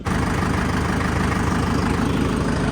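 Loud, close tractor engine idling with a deep, continuous rumble and a rough, knocking throb, a trolley hitched behind.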